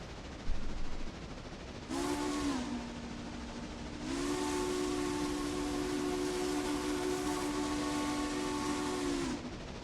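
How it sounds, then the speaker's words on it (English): A train's steam-style whistle blows on a railroad line with a heavy grade ahead, one short blast then a long sustained tone, moderately distant and alone. "Meantime, we'll just enjoy that lonesome whistle sound."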